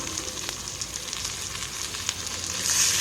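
Finely chopped tomatoes fry in hot oil with sautéed onions for a Tamil fish curry, giving a close, steady sizzle with scattered crackles that swells louder near the end, with no talking.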